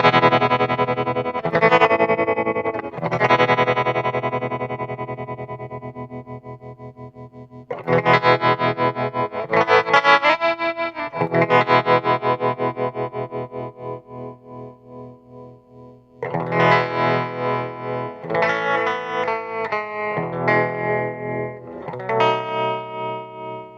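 An all-tube 5-watt guitar amplifier with tremolo and reverb carries chords that pulse in audible wobbles, slow at first and then faster, with a reverb tail that rings into the pauses. No one speaks.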